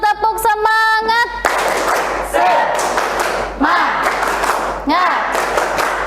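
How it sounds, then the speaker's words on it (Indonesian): A classroom of students performs a rhythmic spirit clap, several bursts of loud unison clapping and stamping thuds with group shouts, close by, after a short sung or chanted tone at the start. "Kita tepuk semangat dulu, tepuk semangat."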